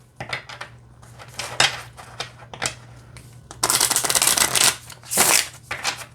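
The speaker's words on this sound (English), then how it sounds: "let's shuffle these cards" Crisp riffling bursts of a card deck being shuffled, several quick ruffles then longer cascading riffles, close and clear over a low steady hum.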